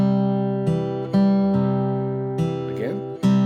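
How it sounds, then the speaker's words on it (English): Fingerpicked acoustic guitar plays a syncopated rhythm with the index finger over an alternating bass line, sustained plucked notes ringing in a steady, close pattern with no talking. "But now we're going to also play that syncopated rhythm with our index finger."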